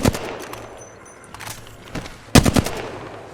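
Gunfire in the battle royale game Apex Legends, with scattered short automatic bursts and single shots, the loudest cluster near the end, heard without talk.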